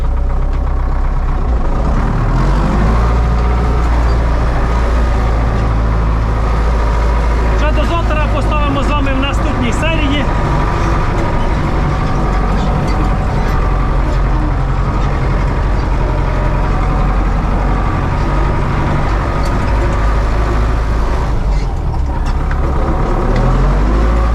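A Case 2388 combine harvester rumbles loudly and continuously as it drives, with heavy low engine drone and rattling throughout.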